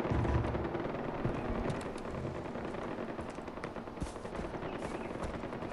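Sustained automatic gunfire in the video game Far Cry 4, dense continuous bursts of rapid shots with a rumbling low end, loud and steady throughout.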